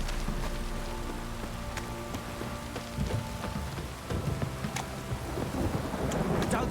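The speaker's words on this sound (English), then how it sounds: "This downpour's a bastard, it is." Steady heavy rain pours throughout in the video game The Witcher 3, with low rumbles of thunder rolling beneath it and brief crackles near the end.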